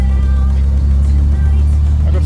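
A Nissan R32 GT-R engine coasting with its intercooler pipe blown off, a loud continuous low drone close up, with a faint voice underneath.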